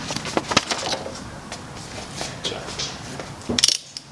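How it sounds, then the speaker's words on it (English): A torque wrench tightening engine nuts on a BMW E30 during an engine refresh for a turbo build, giving a string of close, sharp ratcheting clicks with a denser burst near the end. "I'm going to torque these down to 40, and then 60, and then 75"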